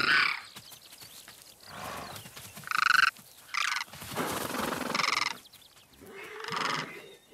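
Horses on the banks of the Kerulen river, alongside demoiselle cranes, give several loud neighs and whinnies in irregular bursts, with quieter animal calls between them.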